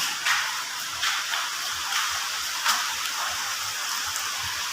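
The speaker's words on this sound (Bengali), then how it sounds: "শুধু জাস্ট বৃষ্টি হচ্ছে।" Steady rainfall, a soft continuous hiss with scattered louder drop impacts, alone and moderately faint.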